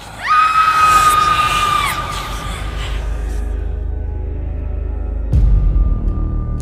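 Screaming voices rise sharply and hold a loud, wailing pitch for about two seconds, then fade into a crowd-like hubbub with a ringing tone, and a second burst of noise hits near the end, eerie in a horror-story setting.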